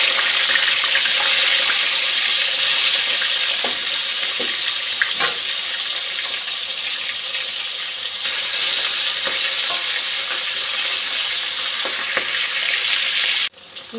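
Fish frying in a pan for a Bengali fish curry, a loud, steady hiss and sizzle close up, with occasional clinks and a sudden cut near the end.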